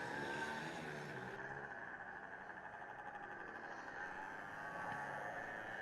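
A Formula Student race car from Osnabrück or RIT, running unhealthily during an endurance event, drones with a steady engine tone on track, heard from a distance and fairly faint, sustained with slight shifts in pitch.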